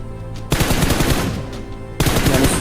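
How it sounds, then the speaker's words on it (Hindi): Gunfire in the game PUBG: two long, loud bursts of rapid automatic fire, one starting shortly after the opening and a second near the end, with no talk. "पर इधर से जो बंदा गोलियां चला रहा था वो कंटिन्यू चला ही जा रहा था, रुक ही नहीं रहा था।"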